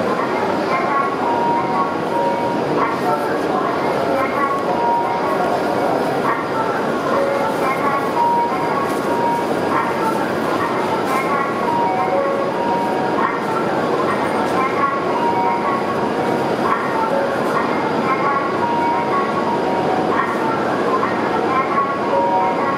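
A Hokuriku Shinkansen Asama out-of-service train pulls into a station platform, its steady rumble and hum filling the scene under a looping Japanese platform announcement and faint chimes.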